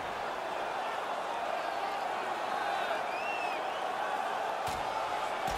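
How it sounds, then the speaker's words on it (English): A hockey arena crowd at a St. Louis Blues vs. Chicago Blackhawks playoff game roars steadily during a fight. The noise is a dense, constant wash from a distance, with a faint whistle or shout rising above it. "And the crowd on their feet"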